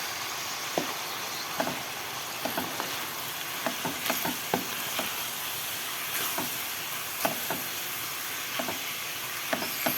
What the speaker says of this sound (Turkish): soğanlarımız pişene kadar kavuruyoruz